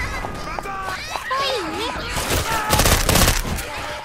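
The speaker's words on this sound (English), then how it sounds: "Shoot that zombie in the back!" Gunfire from the zombie shooter Left 4 Dead 2 on the Dead City II map in expert multiplayer, with rapid bursts of shots and in-game effects building toward the end while voices shout over the action.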